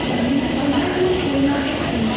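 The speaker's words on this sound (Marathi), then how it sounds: "शेवटी आमची ट्रेन आली, फायनली टायमिंगवर आली. कोयना एक्सप्रेस." Koyna Express pulling into a station, a steady rumble of rolling rail cars with a thin metallic wheel squeal wavering above it, close and continuous throughout.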